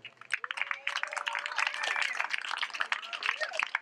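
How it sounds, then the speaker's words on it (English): Outdoor rally crowd applauding and cheering, a dense wash of clapping and voices with a few whoops, moderately distant. "So give yourselves a big round of applause."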